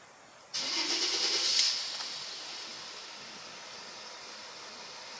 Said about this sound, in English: Now to start the engine.